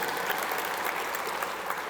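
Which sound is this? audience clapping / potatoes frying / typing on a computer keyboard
audience clapping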